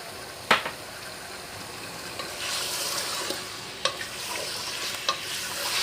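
Chicken fries in a pan for biryani, a steady sizzle with sharp scraping clatters of stirring at irregular intervals, close and moderately loud with no talk.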